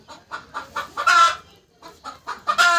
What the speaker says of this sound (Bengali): এখানে দেশি মুরগিগুলো রয়েছে, দেখতে পাচ্ছেন এই যে